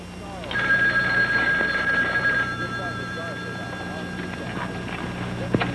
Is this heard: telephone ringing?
yes